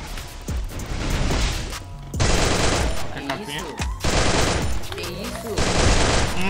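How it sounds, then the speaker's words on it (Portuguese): Bursts of rapid automatic MP40 gunfire in Free Fire, loud and close, come in several sharp volleys separated by brief pauses. "Um tiro."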